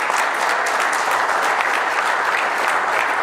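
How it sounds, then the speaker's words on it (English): A large crowd cheers and applauds in a dense, continuous roar of clapping and shouting that stays loud and even from start to finish, with no individual voice standing out. "Why are you cheering me?"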